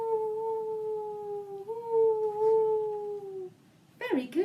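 Children's voices imitate howling storm winds during a storytelling session, a long sustained wavering "ooo" that rises slightly and then fades, followed by a brief burst of noisy voices.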